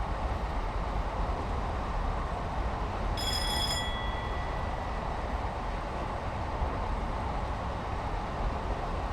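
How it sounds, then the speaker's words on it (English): Class 50 diesel train idling in a station in Train Simulator, a steady loud engine rumble with a short bright bell-like ring partway through. "train in the station"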